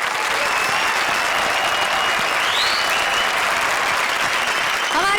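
A studio audience at a comedy show applauds the comedy pairs, steady dense clapping at full strength throughout, with a few whoops and a voice mixed in.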